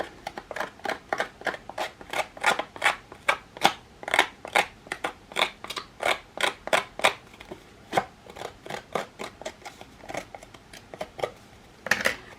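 Paper edges roughed up by hand for a distressed look in stamping and collage craft, heard as a close run of about thirty quick, rhythmic scraping and rasping strokes with short gaps between them, without any talk.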